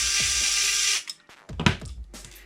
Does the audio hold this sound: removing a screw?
yes